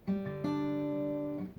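A short acoustic guitar lick: a few plucked notes sliding into a sustained ringing note, played alone and close.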